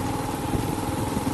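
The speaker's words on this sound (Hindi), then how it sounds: "बाइक तो चल रही है भाई, एकदम ठीक चल रही है" A serviced motorcycle engine runs at a steady idle, close and continuous with a low, slightly heavy throb.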